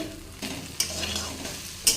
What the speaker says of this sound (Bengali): তাই এই ভেন্ডিটা ভাজছি